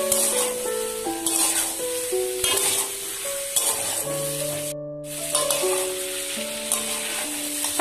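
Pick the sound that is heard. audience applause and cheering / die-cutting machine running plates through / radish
radish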